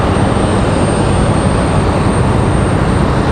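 JetBlue Airbus A220 departing Raleigh-Durham for Boston, a loud, steady, dense jet roar filling the whole stretch without letting up, close and continuous, with no voices.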